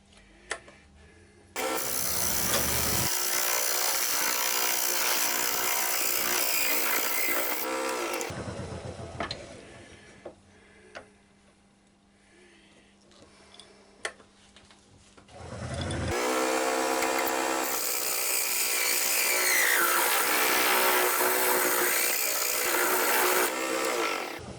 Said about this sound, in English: try and use this little texturing tool now for the actual cup